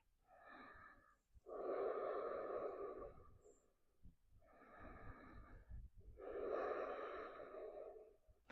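Slow, deep breathing while holding a yoga pose on the floor, two long audible inhale-exhale cycles with a slightly wheezy, nasal quality, close to the microphone and faint overall.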